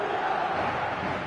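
A large stadium crowd roars steadily in a football video game, a dense, sustained wash of cheering with no breaks, loud and continuous throughout.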